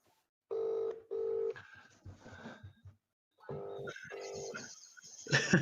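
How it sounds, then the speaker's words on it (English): A phone call placed on loudspeaker, with two long ringback tones, then another pair after a pause, interspersed with crackly line noise; loud and close, with no talk. "I'm going to put him on loudspeaker as well. That's brilliant. Right, Ben. I'm ringing him."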